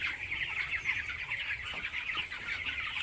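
A flock of 19-day-old broiler chickens fills a poultry shed with continuous soft peeping and clucking, a steady chorus of many birds at moderate distance with no talking.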